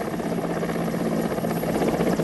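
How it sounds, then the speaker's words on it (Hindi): An Indian Air Force rescue helicopter hovers close by, its steady loud rotor chop and engine buzz continuous and unbroken with no voices. "उसके बाद ये हेलीकॉप्टर आया"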